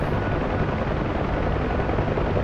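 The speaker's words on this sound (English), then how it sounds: "I'd spin the rotors right off the helicopter." The rotor of a UH-1H helicopter in the DCS combat flight simulator makes a dense, continuous thumping roar, steady and loud throughout with no talking.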